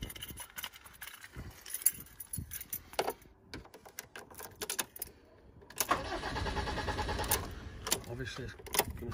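A 2006 Iveco Daily diesel van with a repaired high pressure fuel hose cranks and fires up after a quieter stretch of clicks, then settles into a steady, close engine rumble.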